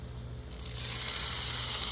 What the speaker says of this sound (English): we're going to heat up our toppings a little bit here. So I'm going to do the pepperoni and